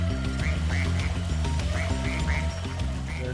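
Cartoonish duck quacks from the video game Spyro 2 Reignited, about seven short rising calls repeating every half second or so over a loud, busy musical backing, with no talking.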